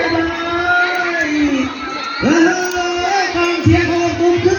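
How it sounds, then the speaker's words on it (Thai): Supporters cheer loudly and continuously at a football match, a dense crowd roar with shouts and whoops rising and falling, including a sharp surge midway. "กองเชียร์ของตุ้มคึกคักอย่างยิ่งเลย"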